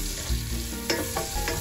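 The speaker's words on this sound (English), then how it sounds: "I'm going to just take my onions and toss them right into that same pan" Chopped onions hit a hot pan of leftover bacon grease and sizzle steadily up close, with a few louder crackling bursts as they are stirred and tossed.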